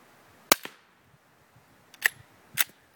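A suppressed 9mm submachine gun with a retrofitted can fires outdoors beside a dirt bank. Three sharp, separate reports ring out, each followed by a short echo off the bank, with quiet between them.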